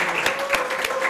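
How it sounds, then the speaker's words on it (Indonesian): Audience applauding for Pak Rija at a school gathering with SMK Negeri 2 Cibinong students, a dense, steady patter of many hands clapping close by over a faint sustained tone. "Kasih tepuk tangan dulu untuk Pak Rija dong."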